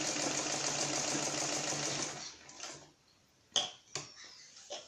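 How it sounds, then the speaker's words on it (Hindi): A sewing machine runs steadily for about two seconds while stitching around a blouse neckline, then stops, followed by a few short clicks and handling knocks. "ऐसे इसी शेप में हम पूरे गले में सिलाई लगा के इसे तैयार कर लेंगे।"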